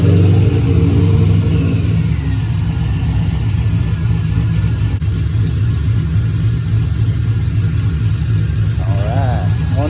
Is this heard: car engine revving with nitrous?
yes